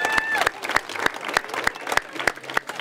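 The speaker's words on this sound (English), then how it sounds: "a round of applause for Maylin and all the staff" Applause from the crowd at a groundbreaking for a new K-8 school, honouring the staff; sparse, distinct claps fall at a fairly steady rhythm over a soft wash of clapping.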